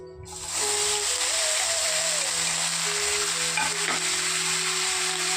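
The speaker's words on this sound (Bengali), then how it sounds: "সব কিছু আমি এবার দিয়ে দিচ্ছি ঘিয়ের মধ্যে, দিয়ে ভেজে নেব।" Winter vegetables and green peas hit hot ghee for fried rice, bursting into a loud, even, close-up sizzle that holds steady after a brief quiet start, with faint music in the background.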